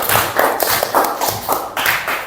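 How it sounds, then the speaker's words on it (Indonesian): Small classroom group applauding after a student presentation, close and loud with distinct uneven claps and a few thumps, brief and without talk. "beri tepuk tangan dulu untuk presentasinya"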